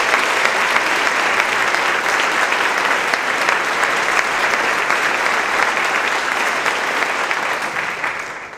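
An audience at a school concert claps steadily and loudly throughout, a dense sustained ovation that starts to thin and fade only at the very end.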